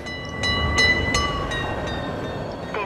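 Trains rushing past in the video game Mirror's Edge Catalyst, a steady loud rumble of rail traffic with sharp metallic squeals and clanks, sounding near and continuous with no talking.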